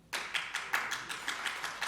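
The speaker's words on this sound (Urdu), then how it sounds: "آپ تالیوں پہ میں تھوڑا کنفیوز ہو گیا ہوں" An audience claps in a hall, a short patter of applause with about ten distinct clap bursts, fairly close, with no talk over it.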